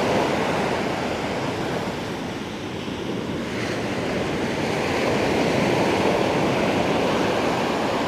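Ocean waves crash and wash onto the sand at Liwliwa beach in a steady, loud roar of surf that swells and eases over several seconds, with wind adding to the rush.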